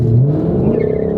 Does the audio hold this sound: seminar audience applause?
no